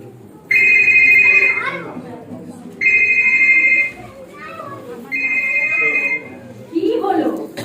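A telephone rings as a sound effect in a Bengali audio drama, 'Calling Bell', sounding in several loud, even bursts separated by short pauses, with voices talking in between the rings.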